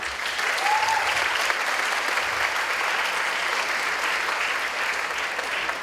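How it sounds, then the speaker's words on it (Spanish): A conference audience breaks into steady, dense applause to welcome a speaker, even and sustained for several seconds with a brief faint voice early on. "Recibámoslo con un fuerte aplauso, por favor"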